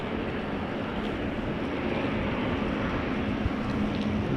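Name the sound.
Finnair A350 airliner starting its engines after pushback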